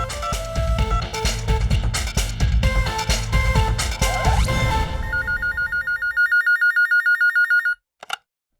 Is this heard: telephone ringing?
yes